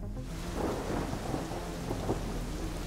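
Steady rain falls across open floodplain country while low rumbles of thunder roll through, the downpour a constant wash with a few louder swells of thunder.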